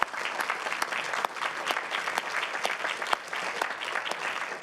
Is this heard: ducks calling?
no